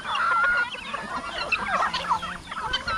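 Guinea fowl on a Philippine farm give loud, harsh, repeated cackling calls, several birds overlapping in a busy, close chorus.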